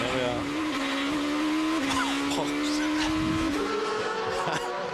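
A GP2 race car at the 2006 Hungarian round screams past at high revs, its engine note rising and shifting through gear changes, loud and continuous with a commentator talking over it.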